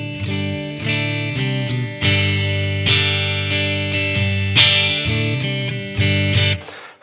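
Clean electric guitar through a Blackstar Amped 1 pedal rings out clear strummed chords and notes, each attack sustaining into the next, loud and alone, ending with a brief scrape.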